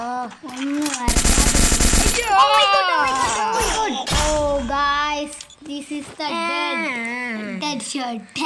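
Free Fire gameplay gunfire rips out in a loud, dense automatic burst lasting about a second, followed by sharper shots, with an excited voice talking over the game throughout.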